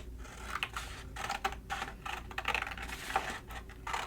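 Scissors snipping out a paper handprint in a quiet art craft setting, a series of soft, close, irregular crisp cuts and paper rustles, faint and unhurried.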